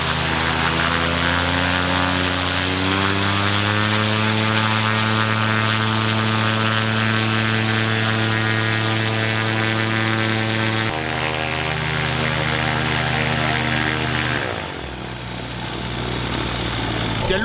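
A fuel-injected light aircraft engine idles at around 900 rpm in a workshop setting, a steady, loud propeller drone with strong low harmonics that dips in pitch slightly near the end, heard alone without talk.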